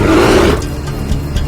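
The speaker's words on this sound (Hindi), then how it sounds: "ये तो भालू की आवाज है।" A bear lets out a deep, loud growling roar close by, one sustained snarl that fades into a lower rumble, with no talking over it.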